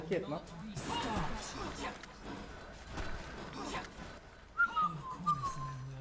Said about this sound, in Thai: ใครเป็นผิวปากวะเนี่ย